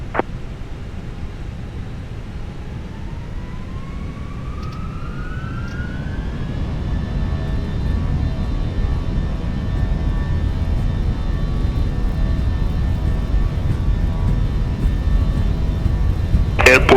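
An Airbus A321-200 takes off from runway 25 right at Brussels Airport in a flight simulator game, its engines spooling up in a rising whine over a steady, growing roar.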